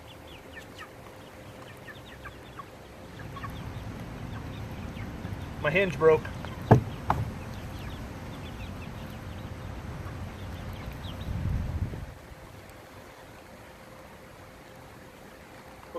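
Farm chickens being fed: a flurry of sharp clucks and squawks bursts up briefly mid-clip, nearby and fairly loud, over low rustling handling noise, with a person speaking before and around it.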